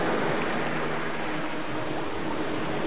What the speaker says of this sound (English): it's just the sounds of the ocean